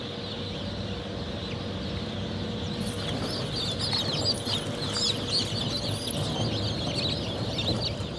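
Dense, continuous peeping and cheeping of many newly hatched chicks crowded together in a hatchery, steady and fairly loud throughout with no voices.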